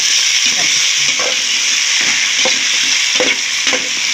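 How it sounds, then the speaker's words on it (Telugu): Masala for vegetable biryani fries loudly in a pan, a dense hiss of hot oil broken by regular spatula scrapes and stirring strokes. "మసాలా ఎంత బాగా ఫ్రై అయితే టేస్ట్ అంత బాగుంటుందండి ఇలాగా ఫ్రై అవుతుంది కదా"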